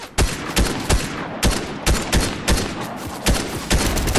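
Rapid bursts of video game gunfire crack out in repeated volleys, loud and close, sharp shots clustered in quick irregular rhythm over several seconds.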